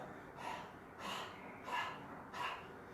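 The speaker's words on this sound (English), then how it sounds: "Active and forceful exhalation through the mouth. Suck the abdomen. Continue for a minute. Dog breathing exercise." Four forceful panting exhalations through the mouth during a dog breathing exercise, evenly spaced and close, each a sharp breathy burst with brief pauses between.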